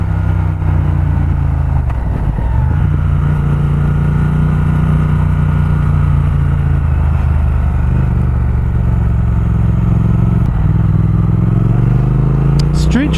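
A Triumph Speed Twin motorcycle engine drones loudly while riding, a steady low throaty hum with slight rises in revs, under heavy wind rush and a rider's voice.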